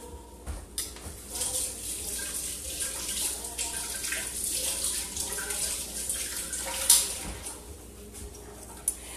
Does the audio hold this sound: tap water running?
yes